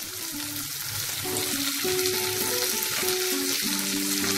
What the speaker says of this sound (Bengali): এখন আমি টমেটো দিয়ে দিচ্ছি